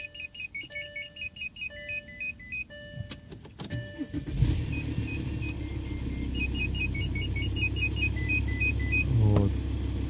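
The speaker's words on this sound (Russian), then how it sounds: "Слышите этот ну не звонкий такой трещащий звук." A VW Touareg 2.5 TDI diesel starts after chiming warning tones, then idles with a steady close rumble carrying a dry rattling clatter from worn rear timing gears.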